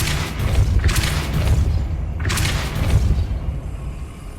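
Depulso spell cast in Hogwarts Legacy, heard as two heavy booming blasts with rumbling low-end bursts about a second apart, loud and close, with no talk.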